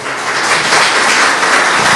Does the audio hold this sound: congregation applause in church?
yes